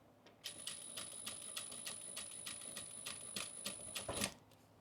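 Sewing machine stitching back over the excess end of zipper tape on a fabric pouch, a steady run of rapid needle strokes that stays fairly close and moderate in loudness before ending in a slightly louder burst.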